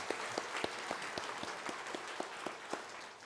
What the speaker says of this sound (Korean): 다시 한번 큰 박수로 한번 격려하겠습니다